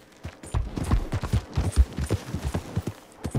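Horse hooves clopping in Red Dead Redemption 2, a quick uneven run of near, moderately loud thuds with a few sharper cracks mixed in.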